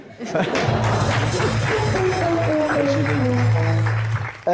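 Studio audience applause fills a television talk show, a dense, steady wash of clapping that lasts nearly the whole stretch, with a voice and musical tones running beneath it.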